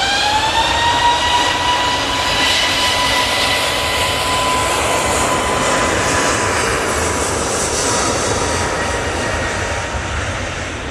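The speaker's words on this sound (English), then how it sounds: "Jet2 making a few unusual noises there and spill up, but it's all perfectly normal" A Jet2 airliner at Manchester Airport roars loud and steady with a rising engine whine and unusual tonal whistles drifting over the broad rumble, continuous throughout with no speech.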